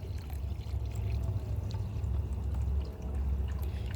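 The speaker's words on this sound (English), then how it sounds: "we're just gonna basically fill this one up with water" Water pours steadily into a container for making compost tea, a continuous splashing gush throughout with no talking.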